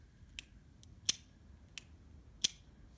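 Colt revolver hammer drawn partway back and released without firing, giving four sharp, isolated metallic clicks spaced under a second apart, close and fairly quiet against a still room.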